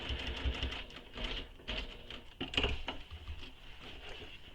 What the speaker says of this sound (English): Now we need to sew a second row of stitching